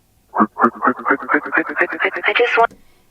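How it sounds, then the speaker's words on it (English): A chopped vocal sample with a dry and wet echo effect runs in a quick stuttering sequence of about fifteen short syllable-like bursts, rising steadily in pitch. It ends in a brief fading tail, with no other voices. "the echo, the dry and wet echo on this little part of the chopped vocal"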